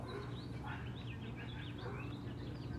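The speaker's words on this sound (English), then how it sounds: "See, when the neighbors are quiet, you can just hear the birds." Faint birdsong drifts through a spring garden, with several small chirps and warbling phrases rising and falling over a steady low background hum, distant and soft with no voices.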